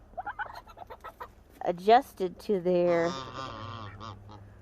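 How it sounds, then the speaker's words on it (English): Turkeys in their new house give short clucks and gobbling calls, first in a quick run of soft notes, then louder, longer calls close by, with a person speaking briefly among them. "I have the turkeys down in their new house."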